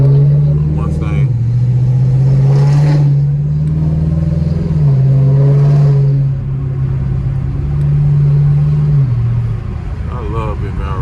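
A Ford Mustang's engine drones loudly from inside the car while driving through the city at 64 degrees. Its pitch steps down several times as the gears shift, with a voice talking over it.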